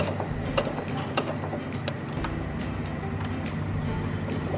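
Close, moderately loud mechanical whirring and ratcheting of a sewing machine running along a crease in apron fabric, steady throughout without voices.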